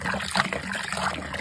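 Brewing wort splashes and trickles continuously into a fermenter, a steady close liquid pour with bubbling texture.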